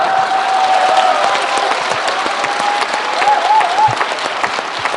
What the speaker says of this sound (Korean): 박수를 많이 쳐주시던데 오늘도 그렇군요